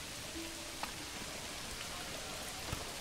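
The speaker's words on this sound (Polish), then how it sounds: "No strasznie dużo deszczu w tym sierpniu." Steady rain falls in the medieval city-building game Manor Lords, a dense, even hiss of downpour with a few faint droplet taps, heard alone without any talk.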